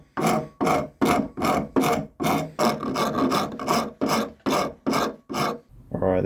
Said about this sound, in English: I'll try and use the Proxen to sand it out, I think.